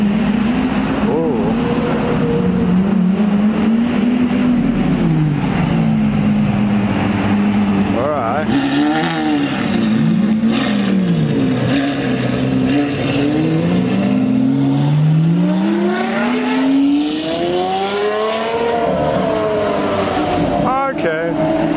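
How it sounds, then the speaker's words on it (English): A Ferrari F12 and a Lamborghini Aventador rev and pull away along a street in Tokyo during Sunday supercar spotting, with loud, rising and falling exhaust notes that swell and pass, and people talking over the engines. "We've got an F12 and an Arancho Argos Aventador"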